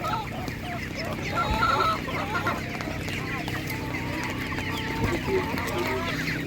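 Several laying hens cluck and murmur continuously amid a busy, noisy animal market, with faint voices mixed in.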